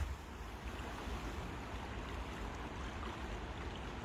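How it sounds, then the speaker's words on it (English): The River Kelvin flows in a steady, soft rush of water, heard alone outdoors on a nature walk. It is quiet, even and continuous, with no voices. "I love listening to the flowing water."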